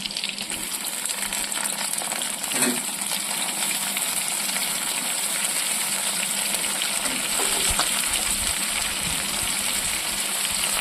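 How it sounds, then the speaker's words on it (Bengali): Mixed vegetables for a Bengali labra curry hiss steadily in hot oil in a pan, a loud, continuous broadband sizzle with a few brief clatters, close and with no talk. "কুমড়ো বেগুন ভাজা হয়ে গেছে, এবার বাকি সবজিগুলো ছেড়ে দিচ্ছি।"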